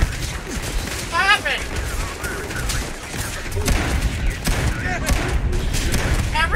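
Rapid gunfire in the video game Starfield, bursts of shots crackling in a busy firefight with overlapping voices talking and shouting throughout.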